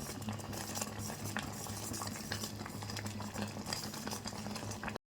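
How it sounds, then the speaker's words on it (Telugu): A pot of vermicelli and sago payasam is stirred steadily, giving a continuous low bubbling and scraping with light utensil clinks throughout. "కలుపుకుంటూ ఉండాలి."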